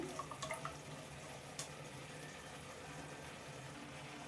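Chopped onions are rinsed under a running kitchen tap. The faint, steady trickle of water carries a few small splashes near the start.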